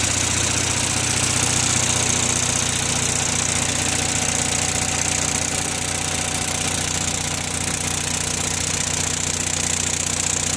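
An Onan 5CCK generator runs steadily under load, a loud, continuous engine drone with a faint knock and vibration throughout and no voices.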